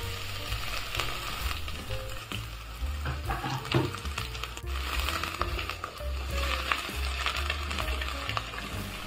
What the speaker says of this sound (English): add a bit of olive oil and add your onions into the pot